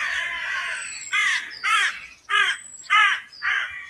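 Rooks and jackdaws calling around a country house, with jackdaws nesting in a tower and rooks in trees out front: a bright chattering run of calls followed by four loud, hoarse caws in an uneven rhythm, close and without talk.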